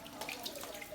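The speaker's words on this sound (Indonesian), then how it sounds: "Keran," Water runs steadily from a tap during handwashing, a soft continuous splashing hiss with faint bright spatters, fairly quiet and with no voice over it.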